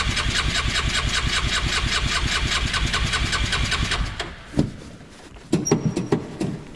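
A Yamaha side-by-side engine cranks steadily with the choke pulled, a loud rhythmic starter churn lasting several seconds, then stops and is followed by a few shorter sputtering attempts and thuds.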